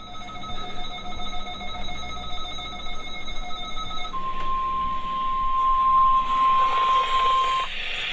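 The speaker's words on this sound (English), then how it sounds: "The preceding signal was a test of the weather radio station's public warning system." A NOAA Weather Radio warning alarm test plays from a receiver indoors, first a shrill multi-tone alarm, then a steady single high-pitched tone lasting several seconds, with faint background noise around it.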